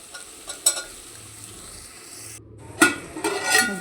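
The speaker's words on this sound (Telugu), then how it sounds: "మళ్ళీ మనం ములక్కాడ ముక్కలు వేసుకుందాం, కలుపుకుంటాం ఒకసారి." Pieces of drumstick (moringa pods) fry quietly in a pan for a tomato curry, with a few scraping stirs of a spoon against the metal, the last ones louder and closer.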